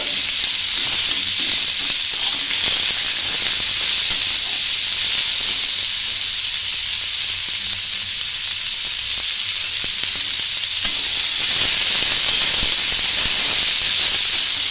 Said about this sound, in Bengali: পেঁয়াজও আমি বেশি কড়া করে ভাজবো না